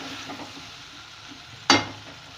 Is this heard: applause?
no